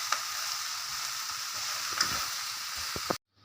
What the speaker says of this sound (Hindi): सारी वेजिटेबल्स को आप अच्छी तरह फ्राई करें मगर हाई फ्लेम में